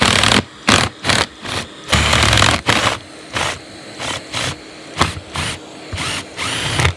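Power drill boring holes during a home plumbing job fitting a hot water pump, loud close bursts of high-pitched whine that start and stop repeatedly in short pulses, with no talk over them.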